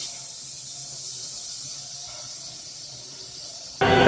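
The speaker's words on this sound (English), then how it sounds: "Do you hear that sizzle?" Food poured into a hot pan gives a steady hiss of sizzling that holds level, then turns suddenly into a much louder, harsher burst at the very end.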